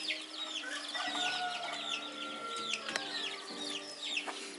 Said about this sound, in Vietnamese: Dưới kia có một đàn gà con nữa.